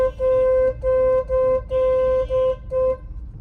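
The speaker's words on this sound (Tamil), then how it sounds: "ஹார்ன் அடிச்சிருங்க" A car horn honks repeatedly, six or so bright, loud beeps of uneven length in quick succession, then stops over low road rumble on a busy, narrow market street.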